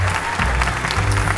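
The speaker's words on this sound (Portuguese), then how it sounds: "palmas pra loucura" Loud close applause from a group in a family setting, dense rapid clapping with voices mixed in.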